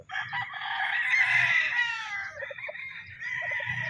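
Kelso gamefowl roosters crow loudly and repeatedly, their overlapping calls filling a farm where many birds are tethered, with a few clucks toward the end.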